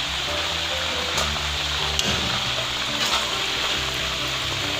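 Chicken pieces sizzle in hot oil, a dense, steady crackling hiss that stays loud and close the whole time, with a couple of sharper pops and no speech.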